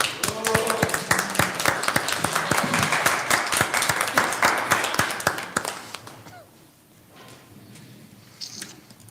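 A small crowd at a Flint city council meeting claps for about six seconds, a dense patter of hand claps that thins out and fades, leaving a few scattered claps and quiet room noise.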